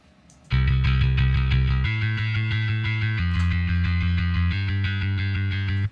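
Bass line of driving eighth notes in C, programmed from a piano roll for a pop punk riff: a loud, gritty, distorted tone that pulses steadily and shifts pitch every couple of seconds across four sections.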